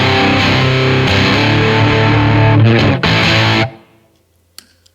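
Fuzzed electric guitar through an Old Blood Noise Endeavors Haunt Fuzz pedal, loud saturated chords that cut off abruptly, leaving near silence with a couple of faint clicks.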